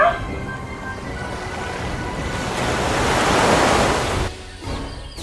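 Ocean waves crash and wash as broad, steady surf noise that swells toward the middle, then drops away sharply near the end, with some wind buffeting the microphone.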